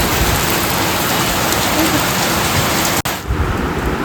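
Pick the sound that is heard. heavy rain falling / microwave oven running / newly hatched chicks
heavy rain falling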